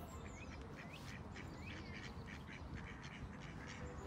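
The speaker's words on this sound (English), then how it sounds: "Can you hear the quack quacks?" Ducks quack repeatedly in a park on a snowy day, the calls overlapping at moderate distance over a steady bed of outdoor noise, with no talk.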